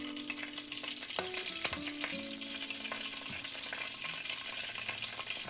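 Curry leaves with mustard seeds and hing spitting in hot oil make a dense, continuous crackling sizzle, broken by a few sharp pops and metal scrapes, close and without speech.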